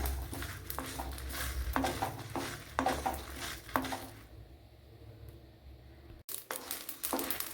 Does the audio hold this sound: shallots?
yes